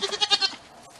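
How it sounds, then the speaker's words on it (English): A goat bleats in a quick wavering series of four or five pulses, close and loud, then trails off into quiet. "it's time to feed the goats"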